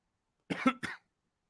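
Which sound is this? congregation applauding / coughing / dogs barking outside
coughing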